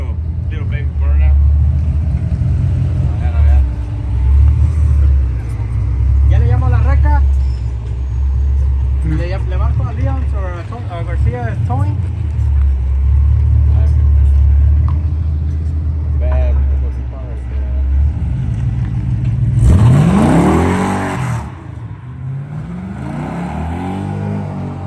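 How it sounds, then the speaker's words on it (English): Cutlass Supreme 442 with a 6.0 engine swap rumbling loud and close, with a sharp rising rev for the burnout near the end; people talk over the engine. "we're gonna see this little baby burnout"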